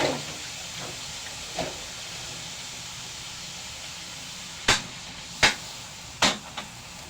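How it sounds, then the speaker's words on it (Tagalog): Hot cooking oil fries in a pan, making a steady low sizzling hiss broken by a few sharp, sudden spits and pops toward the end, close and alone without any speech. "Tumatasik yung mantika sa mukha ko."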